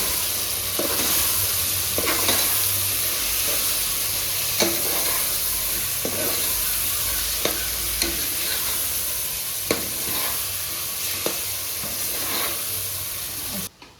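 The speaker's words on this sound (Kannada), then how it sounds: "ಸ್ವೀಟ್ ಕಾರ್ನ್ ಹಾಕಿ ಮತ್ತೆ ಒಂದ್ಸಲ ಚೆನ್ನಾಗಿ ಮಿಕ್ಸ್ ಮಾಡಿ" Sweet corn being stirred into fried tomatoes in a pan for sweet corn pulao, with a constant loud sizzle and repeated sharp scraping strokes of a spoon at an irregular rhythm.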